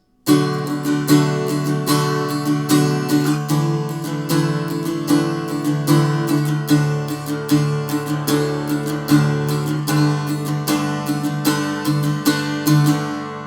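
Steady acoustic guitar strumming, repeated downstrokes on sustained chords in an even rhythm, close and fairly loud with no voices.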